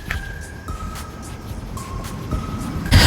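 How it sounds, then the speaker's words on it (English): The tailgate of a 2020 Honda Pilot LX closes, with steady electronic chime tones sounding before a loud, close thump right at the end, and no talking. "with one swift motion, you just close it up and walk away"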